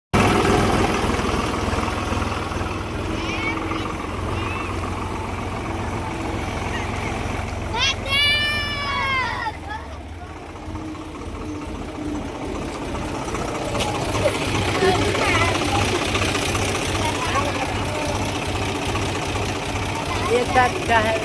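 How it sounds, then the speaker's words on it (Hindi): A tractor engine runs steadily in a village in Chhattisgarh, a continuous low throbbing drone throughout, with a person talking over it and a brief sweeping whine partway through. "तो ट्रैक्टर चला के दिखाता ना आप मन ला"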